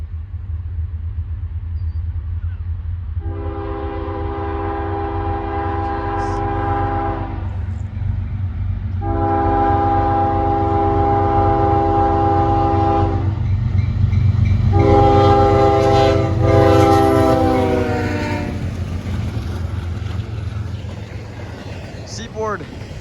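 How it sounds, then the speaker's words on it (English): CSX westbound freight train passing a grade crossing on Lake Avenue in Blasdell, New York: three long, loud horn blasts, the last one shorter, over a steady low rumble of the passing train. "we got a CSX westbound train down the line"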